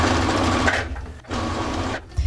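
A domestic sewing machine runs close and loud while stitching a blouse, two long bursts of rapid whirring separated by short pauses, with no talking.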